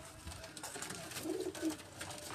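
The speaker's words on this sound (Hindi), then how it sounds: "ये मेरे उड़ाने वाले कबूतर है" Flying pigeons kept on a Karachi rooftop coo softly nearby, a low murmuring call rising briefly amid faint ambient noise.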